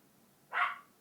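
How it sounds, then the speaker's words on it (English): A single short, muffled dog bark from a distance, alone in an otherwise quiet room. "And my dog starts barking."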